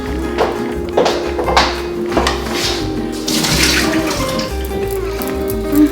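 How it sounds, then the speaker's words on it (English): Water pours and splashes steadily into a sink, a continuous running stream with gurgling bursts, close and fairly loud. "I'll strain the water."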